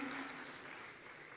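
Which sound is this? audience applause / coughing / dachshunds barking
audience applause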